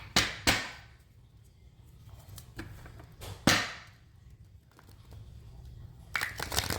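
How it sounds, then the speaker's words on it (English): Tarot cards being shuffled close by produce several sharp riffle bursts spaced a few seconds apart, with quieter fluttering card slaps between them and a final quick flurry, no voice over it. "This is the second shuffle."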